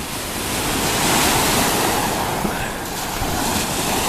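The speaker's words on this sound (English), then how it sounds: "And voila, this is the ocean." Ocean waves at a Riviera Maya beach resort wash in a steady, broad roar mixed with wind rushing across the microphone, continuous and fairly loud, with no talk.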